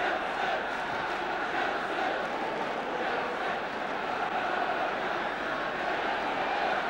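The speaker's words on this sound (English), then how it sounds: "Well, that's got the crowd going." Dense, steady roar of a large football crowd at Stamford Bridge during a 1970s Chelsea versus Wolves match, sustained and unbroken from a distance with no distinct voices standing out.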